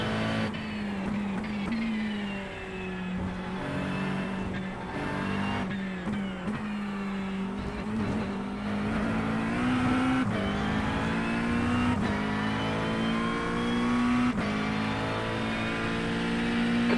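A race car engine in the iRacing VR sim roars steadily and loudly throughout, its pitch climbing and falling through gear shifts and revs, with no voices over it.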